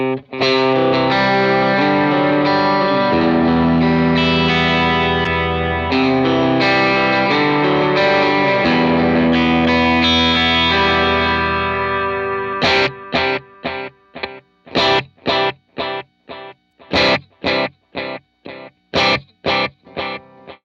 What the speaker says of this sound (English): I put a vintage digital dotted eighth delay in front of it.